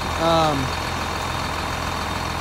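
Old John Deere 44 tractor engine running with a steady low rumble on a hay-hauling farm, constant and moderately loud, with a brief voice-like tone near the start.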